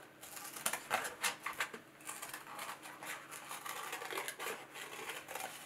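Scissors snip out a handle shape for a handmade vase at a craft workshop, a run of crisp close cuts and paper rustles with uneven rhythm throughout, no voices.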